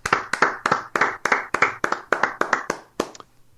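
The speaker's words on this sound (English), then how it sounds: "Here, Tim and I will give you the clap as well." Two radio hosts clap their hands together in a steady run of about a dozen sharp, close claps, evenly spaced and loud, with a low hum underneath and no talking.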